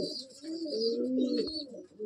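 A close pigeon gives a clear, rolling coo lasting most of the moment, a warbling low call that rises and falls alone against a quiet background.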